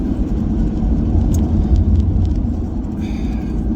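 A car being driven with steady low road rumble and engine drone throughout, loud and continuous with no talk over it.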